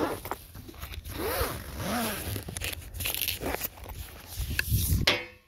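A zipper on a solar panel's carry bag is pulled closed in several quick rasping runs, close and fairly quiet, with a louder final tug at the end.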